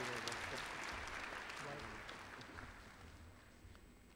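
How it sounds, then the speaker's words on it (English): A round of applause from a crowd at a fall university graduation ceremony, full and sustained at first, then slowly thinning and fading toward the end, with a few voices mixed in. "one more round of applause, ladies and gentlemen, Dr. Robert Berry"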